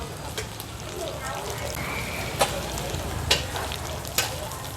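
Batter cakes fry in a giant pan at a Saigon street-food stall, a steady close sizzle with occasional sharp scrapes or clinks of a utensil, and a voice talks faintly in the background.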